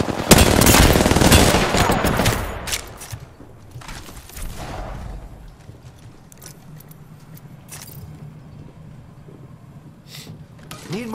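Apex Legends weapon gunfire: a loud burst of rapid shots opens the clip, then sparser single shots and game effects trail off in the background while a voice speaks.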